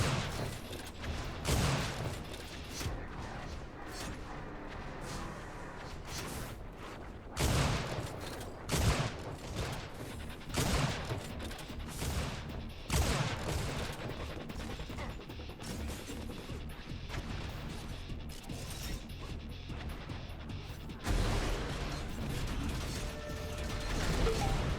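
Rocket launcher fire in an Unreal Tournament pro league match: repeated loud blasts and crashing explosions burst out at irregular intervals over a constant bed of in-game action and mechanical clatter.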